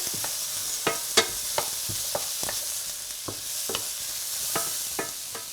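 Herbs and seasonings being stirred into a sizzling skillet, a soft steady frying hiss punctuated by regular scraping taps of a utensil against the pan, fairly quiet and close.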